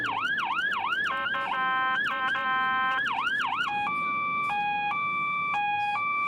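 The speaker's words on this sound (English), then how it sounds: "Interesting siren cadence change there." An ambulance siren in snowy Slovenian traffic wails in rapid yelping sweeps, then switches to a slower two-tone hi-lo pattern, loud and continuous over traffic.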